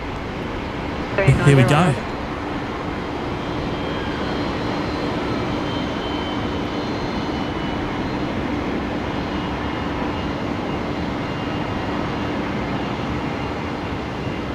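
Air Callan Airbus A320neo landing on runway 01 at Brisbane Airport, a distant steady engine roar rumbling under a brief spoken phrase and continuing alone.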